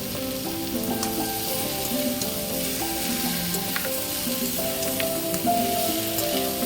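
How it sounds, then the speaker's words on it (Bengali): Pumpkin frying with onion and garlic in a pan, a dense steady sizzle with occasional stirring taps, close and even throughout without any talking. "পেঁয়াজ, রসুন আর কুমড়োটা এবারে খুব ভালোভাবে একটু ভাজা ভাজা করতে হবে"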